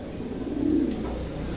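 One brief, soft coo comes from a pair of pigeons, a short, low murmur over quiet background hiss.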